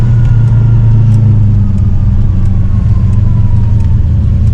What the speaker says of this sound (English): she put on the acceleration at this point